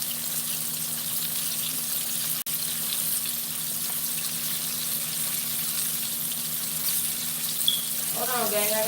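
Running tap water rinses flour off hands at a kitchen sink while chicken fries, a steady close wash of water that continues for the whole stretch, with brief clatter near the end.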